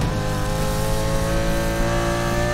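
A supercar engine in the racing game Need for Speed Heat revs in a loud, steady, high-pitched roar that holds at near-constant pitch throughout, with no voices.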